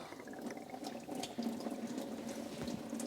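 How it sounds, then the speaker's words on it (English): Engine coolant pouring from a cut heater hose on a Land Rover LR3 into a drain pan below, a steady close trickling and splashing of liquid that continues without a break and with no speech. "there's a bunch of coolant coming out, unfortunately, but I have a pan down there"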